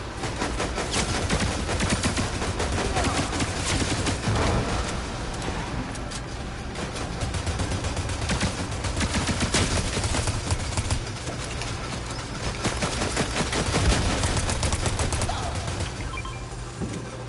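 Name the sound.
gunfire in the video game Fortnite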